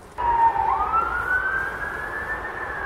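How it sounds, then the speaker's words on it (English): A siren wails in, rising and holding its pitch, loud and fairly near over a low rumble of traffic, with no voices. "Sirens, sirens, that's all you hear."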